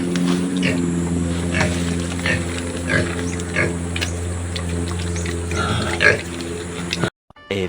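Pigs grunt and oink repeatedly on a farm after a typhoon, close and continuous over a steady low engine-like hum, with people talking intermittently nearby before a brief cut near the end.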